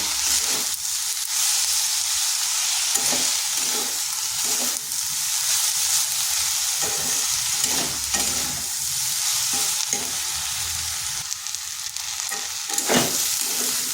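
Potato pieces are stir-fried in hot oil for a drumstick-leaf dish. A loud, continuous sizzle and hiss fills the whole stretch, broken by repeated scraping strokes of the spatula, with no speech.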